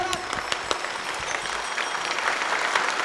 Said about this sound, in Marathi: टाळी वाजवा, टाळी टाळी टाळी